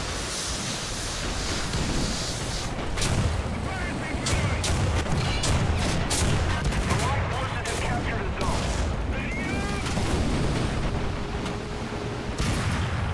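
Tank cannon fire and battle noise from a World War II M4A1 Sherman match in War Thunder, a steady loud din of booms, crackling shots and rumble with sharp impacts spread across the whole stretch.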